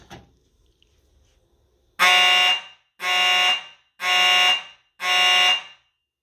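A Simplex electro-mechanical fire alarm horn sounds after a dual-action conventional pull station is activated, blaring four loud, harsh buzzing blasts of about half a second each in a steady rhythm following a brief click and near silence.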